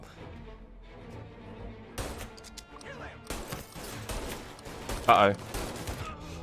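An enemy opens fire in Mafia Definitive Edition, sharp gunshots cracking in irregular bursts, with a louder hit near the end, while someone talks quietly over the shooting.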